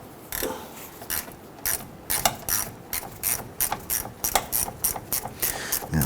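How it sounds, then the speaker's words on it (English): A 1/4-inch ratchet with a 10mm socket loosens a rust-treated battery ground clamp nut on a 2007-2021 Toyota Tundra 4.7L V8, giving a close series of sharp, rapid clicking bursts in uneven strokes, with no voices. "We're going to use our 10mm socket on a 1/4 inch ratchet."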